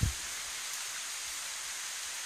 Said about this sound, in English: Still raining, but not with the intensity it is now.